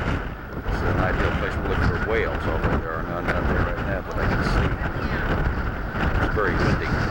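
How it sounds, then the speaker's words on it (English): Steady wind buffets the microphone in a continuous low roar, with a voice talking faintly underneath. "very windy."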